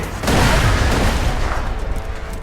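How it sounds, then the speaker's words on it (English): A loud explosion as explosives blow up safes in Borderlands, a sudden deep boom that rolls on with a rumbling, crackling tail and fades slowly. "Put the rest of Tina's explosives on those safes and watch the fireworks."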